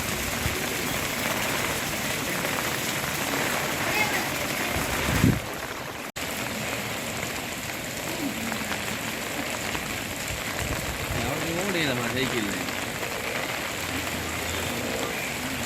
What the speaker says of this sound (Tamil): நாட்டில் தற்போது பெய்து வரும் அதிக மழை